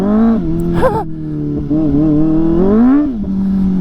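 A Kawasaki ZX-4R motorcycle ridden on gravel, its engine droning loud and close with rising and falling revs and a brief sharp throttle blip near the start.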